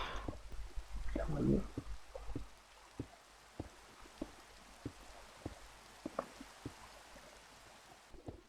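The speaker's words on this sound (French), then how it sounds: "J'aime pas la pluie, ça sert à rien." Rain pattering in the video game Minecraft, a soft steady wash with scattered drop ticks across the whole stretch, partly under a brief burst of talk near the start.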